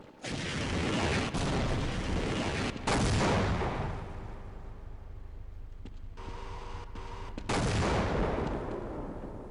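Enemy gunfire in Half-Life, loud sustained bursts of shots that break off briefly, then start again, with a quieter tonal stretch before a final heavy burst.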